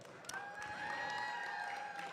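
Crowd applause for a robotics team at a VEX V5RC Halloween Pushback tournament, steady clapping and light cheering from a large gathering over a sustained electronic tone, continuous for about two seconds.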